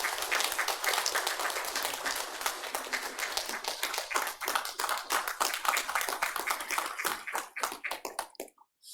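A church congregation claps warmly at a Sunday service, a dense burst that thins into scattered individual claps before fading to silence at the end.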